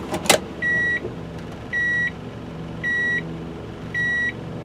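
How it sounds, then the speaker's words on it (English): Inside a Nissan S-Cargo in reverse gear, a clean electronic chime repeats four times at an even pace of about one per second, each tone held briefly over a low engine hum, after a short clunk at the start. "It also sounds a chime when you shift into reverse."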